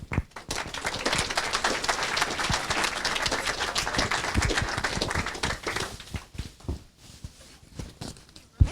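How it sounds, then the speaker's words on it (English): Lively audience applause for panelists coming onstage at a panel on the rise of AI: dense clapping builds and holds, then thins into scattered individual claps near the end, with a closing sharp clap. "If you can give them a round of applause."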